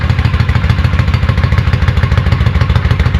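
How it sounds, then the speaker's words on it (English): Close, loud engine of a vintage Honda motorcycle with lithium-battery start, running in a steady, fast pulsing rhythm of thumping exhaust beats, alone with no talking. "And the sound of this bike is"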